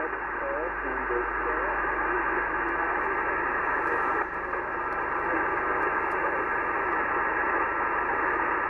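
Steady hiss of amateur radio band noise from a portable POTA station, a faint signal buried beneath it; broadband static runs constant and loud throughout without any clear voice rising above it.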